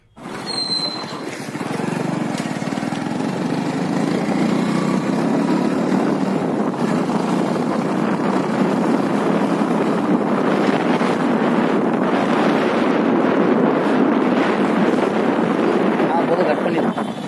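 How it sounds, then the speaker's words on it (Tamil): Hero Passion Pro motorcycle with weak initial pickup, its engine starting up and then running steadily while riding, a loud continuous drone mixed with wind rushing over the microphone and occasional speech. "இந்த வண்டியில் வந்து ஒரு ரைட் போக போகிறோம்"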